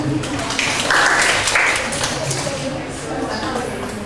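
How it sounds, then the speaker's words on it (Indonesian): An audience claps in a moderate round of applause for Mbak Devina at a communication training session, with a voice speaking over the clapping. "Sini tepuk tangan dulu untuk Mbak Devina."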